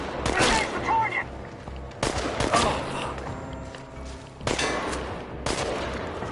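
Bursts of gunfire in the video game Chernobylite, several separate volleys of rapid shots with sharp metallic clangs, loud and close, spaced a second or two apart.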